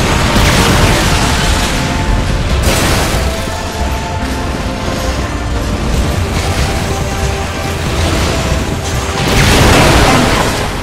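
Helicopters shot down and exploding in Skylanders: Giants, heard as loud continuous booming and crashing blasts layered over droning game noise, with heavier bursts near the start and end.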